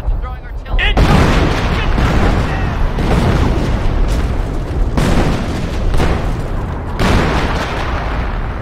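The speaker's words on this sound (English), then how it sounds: "Kratz is throwing artillery..." Artillery shells explode in the Company of Heroes WWII battle at Cauquigny, with repeated heavy booms and rumbling blasts over dense battle noise, close and loud throughout.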